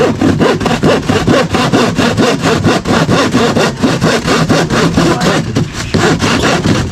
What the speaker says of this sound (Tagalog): tuloy-tuloy pa rin kami nagpagputol, pagtabas ng plywood para dyan sa forma nga, sa biga. Kaso mapurol yung lagari